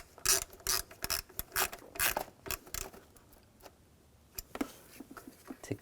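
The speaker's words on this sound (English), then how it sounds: "Tighten down the screws." Screws being tightened on a 2007-2013 BMW X5 with the 3.0L inline-six during MAP sensor replacement, heard as quick bursts of close ratchet clicking with short pauses between them, fading to a few sparse clicks near the end.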